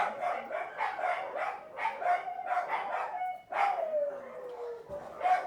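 A dog barks and yips repeatedly in quick bursts, then lets out a drawn-out whining howl, close by with no talking.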